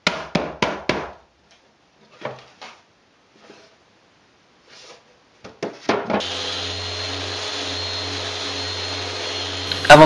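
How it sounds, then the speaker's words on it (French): A power sander works over wooden bathroom cabinet pieces. It starts after a few hard knocks and scattered handling noises, then settles into a steady, loud whine that runs to the end. "Avant de passer au collage, je fais un ponçage soigné de toutes les pièces."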